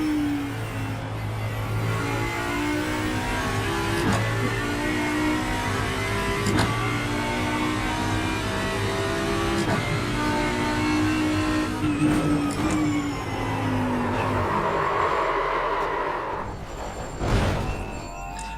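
A car engine drones steadily and loudly throughout, with shifting tones as it revs and accelerates during driving, a few sharp knocks near the end.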